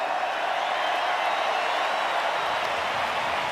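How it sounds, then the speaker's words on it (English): A stadium crowd of about 50,000 football fans applauds at a grand final celebration, a dense, continuous roar of clapping that stays steady and loud throughout. "The applause is all for you"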